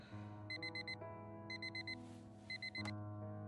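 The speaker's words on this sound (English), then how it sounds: "Every day that alarm goes off." In Fragments of Him, a bedside alarm clock sounds three bursts of four quick high beeps over a sustained low hum, ending with a sharp click, and nobody speaks.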